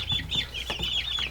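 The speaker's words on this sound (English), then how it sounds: "The chickens are all back in their cage." Hens in a cage cluck in quick, rhythmic bursts, close and lively, a flurry of agitated calls from several birds at once during winter chores.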